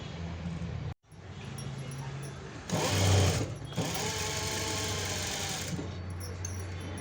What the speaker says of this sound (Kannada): ಏನು ಮಾರ್ಕ್ ಬಂದಿದೆ ಆ ಮಾರ್ಕ್ ಮೇಲೆ ಸ್ಟಿಚ್ ಹಾಕೊಳ್ಳಿ